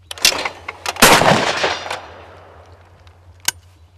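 Shotgun blasts ring out at clay targets in an outdoor shooting setting, with a few sharp loud reports, one heavy shot followed by a decaying echo, and a fainter shot near the end.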